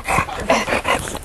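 A Boxer dog greets a visitor excitedly at close range, giving a quick run of short, whiny, vocal yelps and snuffling bursts.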